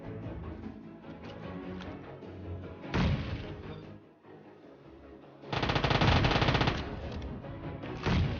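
Video game gunfire laid down as cover fire: loud bursts of rapid automatic shots around the three-second mark and a longer sustained volley in the back half, with quieter game ambience and scattered shots between.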